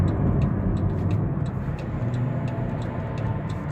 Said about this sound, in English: I'm going to give this van a hard brake.